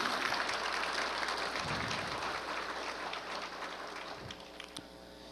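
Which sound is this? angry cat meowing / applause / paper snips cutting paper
applause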